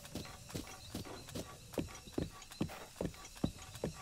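Horse hooves clip-clop at a steady walking pace in Breath of the Wild, about nine crisp, evenly spaced hoofbeats over faint ambient background, with no voices.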